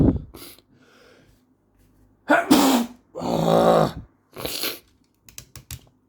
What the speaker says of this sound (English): sick of sneezing now